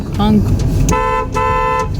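A car horn sounds in two sustained honks, loud and close, over traffic rumble and a voice talking, on a mountain road near Tawang.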